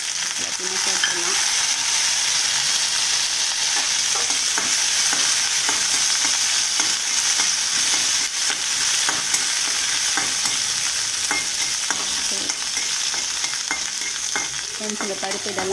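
Mustard seeds, urad dal and chana dal crackle and fry in hot oil for a lemon rice tempering, a steady dense sizzle with scattered pops and occasional spoon stirs throughout, close and loud, no talking.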